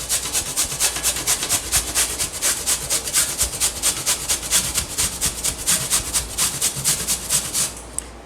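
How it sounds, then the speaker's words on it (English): Green papaya is grated by hand on a grater in a steady run of quick rasping strokes, close and continuous, with no voices. "you can take your grater and just start grating like this."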